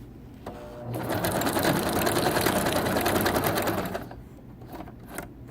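A sewing machine runs steadily for about three seconds, stitching a zigzag to finish off a handmade journal tip-in, with quieter mechanical clicks before and after the run.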